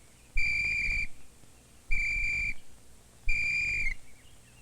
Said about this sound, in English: Once you realize you're lost, blow the whistle 3 times